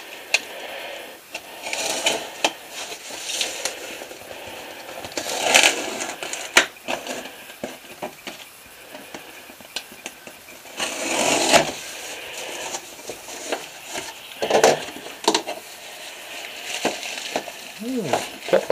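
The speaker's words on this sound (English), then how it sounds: "got a purse on the mail today. I'll open it up and see what she is." A mailed package holding a purse is opened by hand, with scattered rustling, crinkling and tearing of packaging at close range, quiet and irregular with short louder bursts.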